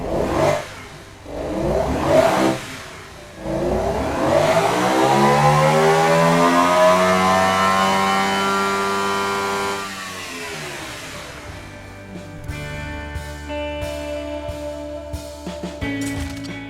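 A car engine in a driving video game revs up with a rising, siren-like whine that climbs and holds, then drops off and settles into a lower idle with small blips, loud and close with no talking.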